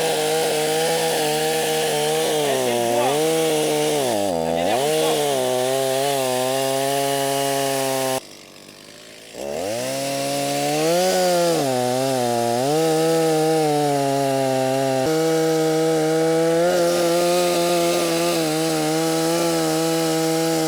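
A STIHL chainsaw cutting firewood, its engine droning loud and close, dipping under load and climbing back, with a brief drop to idle partway through before revving hard again.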